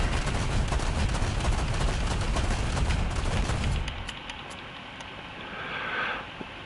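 Aircraft cannon fire in the War Thunder video game: dense rapid bursts of heavy gunfire for several seconds, then they stop, leaving engine drone and a faint whooshing.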